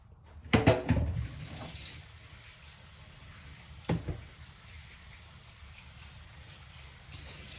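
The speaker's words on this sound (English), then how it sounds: "I'm going to go ahead and get some water in there." Water from a kitchen tap gushes into a pan of baked Creole-style crawfish-stuffed meatballs, a loud splashing burst that settles into a steady close running stream, with a couple more splashes later.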